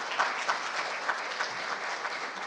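Sustained applause from a seated audience at the opening ceremony of the 2023 International Patent Court Conference, a steady dense clapping at even volume with a few sharper individual claps standing out.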